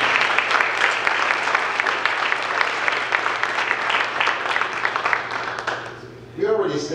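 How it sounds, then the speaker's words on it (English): Audience applause for two parents at a talk, a dense, steady round of many hands clapping for about six seconds before fading out as a voice resumes. "So let's give both of the parents a round of applause,"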